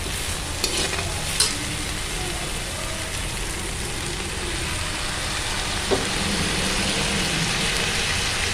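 Tomatoes and curry leaves sautéing in a pan for a mint chutney, a steady close sizzle running throughout with occasional faint stirring clicks, no voices.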